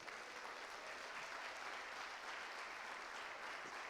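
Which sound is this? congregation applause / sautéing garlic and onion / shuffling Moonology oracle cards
congregation applause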